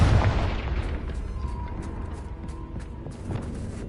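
A Confringo blasting spell explodes in the Hogwarts Legacy video game: a heavy, booming detonation at the start that decays into a long rumbling tail with scattered crackling bursts.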